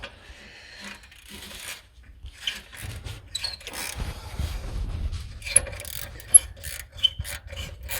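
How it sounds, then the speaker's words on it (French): A small ratchet wrench with a long 13 mm socket works a bolt loose during a downpipe installation on a BMW M140i, giving scattered quiet clicks, scrapes and metallic ticks at an uneven pace. "j'ai pris une petite clé à cliquer, une douille longue de 13"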